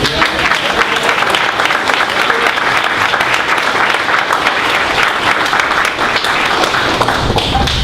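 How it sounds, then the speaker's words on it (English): An audience at a county school board of education meeting breaks into steady, sustained applause, a dense, even clatter of many hands lasting several seconds, loud and continuous with no talking over it. "You've got to take your applause on that."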